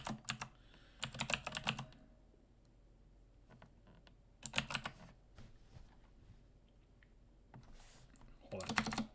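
Close, clattering keystrokes on a computer keyboard arrive in three quick bursts separated by quiet pauses, with scattered single taps between them.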